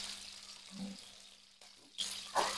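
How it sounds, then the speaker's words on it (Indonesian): Red chilies and bird's eye chilies fry in hot oil, giving a quiet sizzle with brief stirring scrapes and a louder crackling burst near the end. "Kita mau goreng cabai merah, cabai rawit,"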